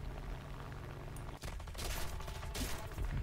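Aircraft guns fire in the War Thunder combat game as rapid machine-gun bursts, two dense rattling volleys in quick succession over loud engine noise.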